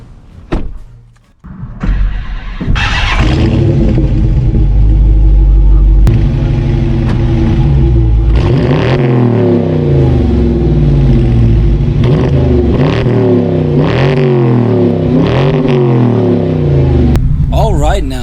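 A 2020 Dodge Challenger R/T with a 6-speed manual and dual exhaust starts up loud and close, settles into a deep idle, then gives a series of sharp revs that rise and fall repeatedly.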